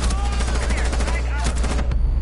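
Rapid gunfire bursts from a Rainbow Six Siege match, dense close-range automatic shots crackling almost continuously for a couple of seconds, with a voice talking faintly underneath.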